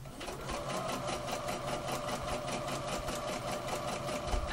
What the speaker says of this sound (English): I'm just going to sew a couple of millimetres, about 3 or 4 millimetres away from this edge.